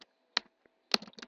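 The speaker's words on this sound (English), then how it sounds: "Now we are going to type an expression" A few sparse, crisp keystrokes on a computer keyboard, with single clicks and then a short cluster of taps, close and quiet, while an expression is typed in After Effects.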